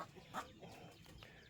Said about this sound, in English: the hen goes to making all that noise after they lay their egg